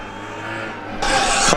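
A Formula Student race car engine drones steadily nearby during the FSG 2022 endurance event on track, then a sharp, bright burst of noise swells for half a second before easing off.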